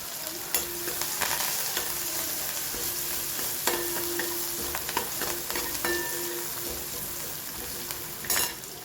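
Asafoetida and onions fry in a hot pan with a steady sizzle, broken by repeated scraping and stirring strokes of a spoon, close and fairly loud throughout with no talking.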